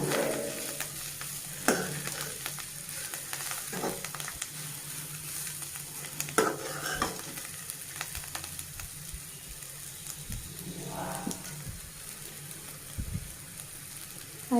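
Bitter gourd (kakarakaya) fry crackles and sizzles steadily in a pan, with occasional stirring scrapes and clinks up close. It carries on at a low, even level throughout, with no voices.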